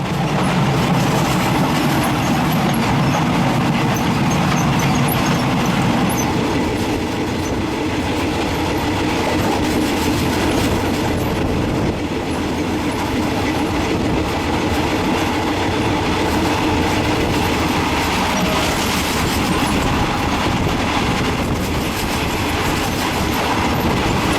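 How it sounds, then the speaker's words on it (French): Passenger train wagons rolling on rails between Pattaya and Bangkok, a loud continuous rumble with rhythmic clickety-clack and faint wheel squeal, heard from inside the carriage with no talking. "Les wagons sont enchaînés entre eux et forment un long couloir continu d'un bout à l'autre du train."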